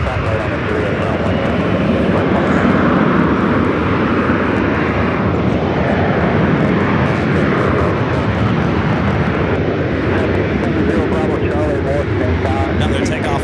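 An airliner takes off at Los Angeles International Airport, a loud continuous roar of jet engines that swells and shifts slightly, with voices talking underneath.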